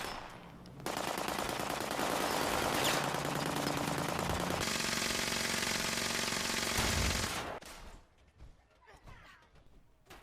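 Flame weapons firing during a PvP arena fight in Fallout 76, heard as loud, sustained roaring and crackling bursts over a driving music track, with the fire cutting off near the end.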